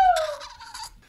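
A voice imitates a rooster crow, one loud, close, brief strained call with a rising pitched onset, heard alone.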